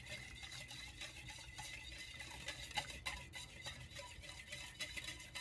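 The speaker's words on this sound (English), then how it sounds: "I'm gonna stir that." Jell-O powder stirred into about two-thirds of a cup of boiling water, a faint, continuous swishing and light scraping of a utensil in a bowl, close up with no pauses.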